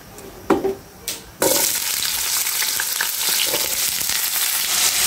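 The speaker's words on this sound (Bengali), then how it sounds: "আলুটা কিন্তু আমি বাদামি কালার করে ভেজে নেব।" Cut potatoes drop into hot oil seasoned with cumin and black cumin, bursting into a loud, continuous sizzle after a couple of brief clatters, then frying steadily without voices.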